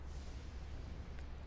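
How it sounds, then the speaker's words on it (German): A thunderstorm in The Myth Seekers 2 adventure game rumbles as a deep, continuous roll of thunder that stays loud and heavy throughout, with no voices. "Gewitter."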